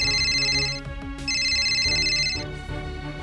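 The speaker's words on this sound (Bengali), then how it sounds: "এই ধরো আমার কল আসছে।" A phone ringtone for an incoming call plays loud and close, a bright electronic melody of repeating tonal phrases that runs continuously with no speech over it.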